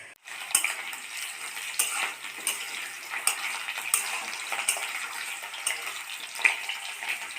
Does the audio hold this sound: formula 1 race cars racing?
no